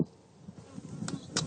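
Honey bees buzz at an opened hive, a close, continuous droning hum that swells slightly louder toward the end, with a few sharp rustling clicks.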